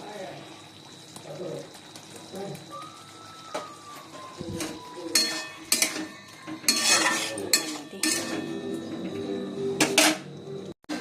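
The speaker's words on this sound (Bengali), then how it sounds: "আমি পরোটা বানাচ্ছি" Paratha cooks in a pan in a home kitchen, with stirring, scraping and clattering utensils in bursts and a soft sizzle under a voice talking.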